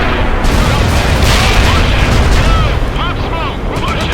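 Battlefield gunfire and explosions in the video game World in Conflict, a loud, dense, continuous roar of shots and blasts with radio voices calling out over the din.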